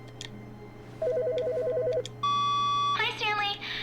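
A telephone rings in The Stanley Parable video game: an electronic warbling ring pulses for about a second, then a steady tone holds for a moment before a voice begins speaking over it.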